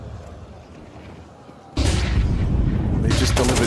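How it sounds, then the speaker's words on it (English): A grenade blast in Counter-Strike 2 hits with a sudden loud, broad boom midway through, following quieter game ambience, then leaves a dense rumbling wash with sharper bursts near the end. "They just delivered Donk a nade."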